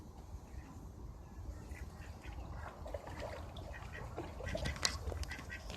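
Ducks quacking at a garden pond in Aldridge Gardens, Hoover, Alabama, a busy cluster of overlapping quacks and honking calls rising and falling at close to moderate range over outdoor background noise.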